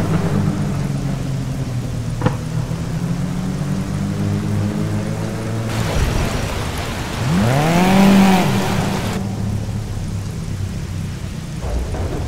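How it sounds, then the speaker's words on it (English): Racing-game weather effects in Project Cars: steady rain hiss with low rumbling, then a loud rolling thunderclap in the middle over a car engine whose pitch rises and falls, with the rain continuing afterward. "I seen like little rains coming through the tunnel, and then I heard little sound effects, and as soon as I got outside, it fucking looked like a fucking thunderstorm"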